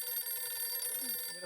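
A mobile phone rings with a steady electronic trill, close and moderately loud, running continuously with no voices over it.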